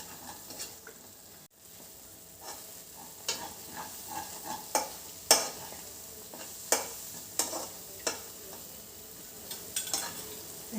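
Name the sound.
stirring almond kesari in ghee in a pan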